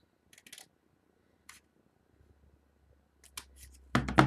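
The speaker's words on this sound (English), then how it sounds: "I'm going to cut like a banner shape to it." Scissors cutting a banner shape into paper for junk journal ephemera, with a few quiet, separate snips followed by louder, closer crisp cuts near the end.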